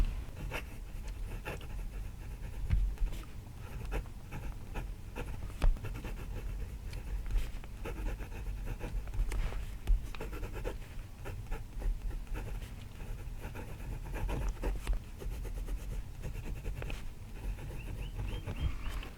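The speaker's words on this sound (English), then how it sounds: "So it continues to write good." A Jinhao 9016 fountain pen writes on paper, its nib giving steady soft scratching strokes close by for a long stretch, with no talking.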